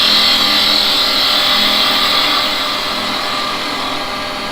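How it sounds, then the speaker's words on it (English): Wood lathe spinning a baiting needle blank as a spindle gouge rolls across it, giving a steady, loud broadband whir with a bright hiss that eases slightly toward the end; no talking. "I'm going to use a spindle gouge to do this bit"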